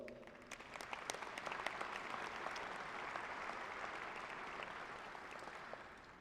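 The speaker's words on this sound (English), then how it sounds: "Please join me in giving them a big round of applause as well." Steady applause from a large crowd at a university commencement, a dense wash of clapping that holds evenly and fades slightly at the end.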